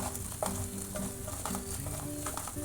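Chopped chilli, ginger and garlic frying in oil over a low flame for tomato pickle, a steady close sizzle broken by repeated stirring scrapes, with no talking.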